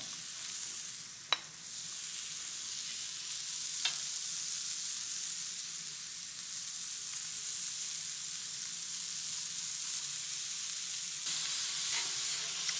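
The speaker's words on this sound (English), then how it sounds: "don't be shy about letting this meat brown" Meat browning in a hot cast iron pan, a steady soft sizzle with a couple of faint clicks, alone without talk.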